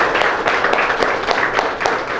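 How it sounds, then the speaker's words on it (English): Audience applause fills a lecture room to welcome Dr. Fritz Dixon, a former medical director of a family planning organization in Idaho: steady, dense clapping from a crowd, fairly loud and continuous with no talk over it. "let's all give a round of applause to Dr."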